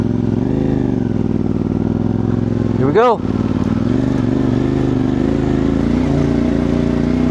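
A motorcycle engine hums steadily and close at the start of a mountain ascent on Mount Atugo in Ifugao, with one sharp rev rising and falling midway, while people speak over it.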